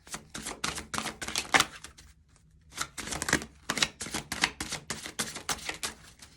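Tarot cards are pulled and shuffled in quick, rhythmic bursts of riffling and snapping, close and crisp, broken by one brief pause before the rapid shuffling resumes.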